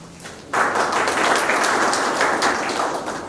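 An audience at an academic anniversary conference breaks into applause, a dense burst of many hands clapping that begins abruptly and holds steady for a few seconds before tapering slightly.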